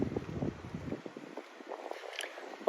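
Gusty wind buffets the microphone on a street in Japan, a continuous rough rumble with faint broadband hiss and light scattered noises, fairly quiet overall.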